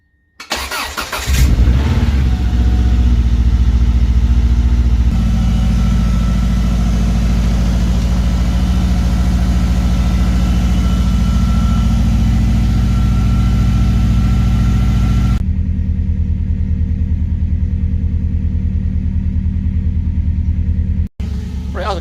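A 1993 Subaru Impreza WRX engine cranks and starts, then runs at a steady, elevated high idle for a long stretch before the tone drops and it cuts off near the end. The engine is loud and close throughout.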